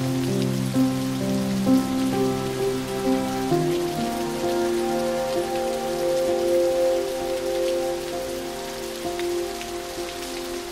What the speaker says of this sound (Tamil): அதுலேயும் இப்போ மழை வேற பெஞ்சிட்டே இருக்கா